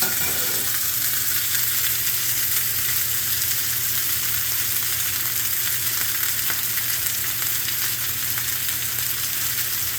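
Close, continuous frying in a pan: an even crackling sizzle with scattered pops, holding steady at moderate loudness with no talking.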